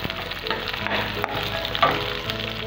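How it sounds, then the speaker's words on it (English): Vegetables stir-fried in a hot pan give a steady, close sizzle and crackle, with soft scraping of the stirring utensil breaking through now and then. "Now stir fry this also."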